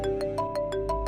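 A mobile phone rings for an incoming call in a drama scene, with a fast series of bright, repeating electronic tones over a steady low background hum.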